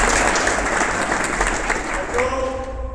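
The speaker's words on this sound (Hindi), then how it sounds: "इस बच्चे के लिए जोरदार तालियां, जोरदार तालियां।" Loud, dense applause from schoolchildren in a school gathering at an inter college, clapping for a student; a voice rises briefly near the end.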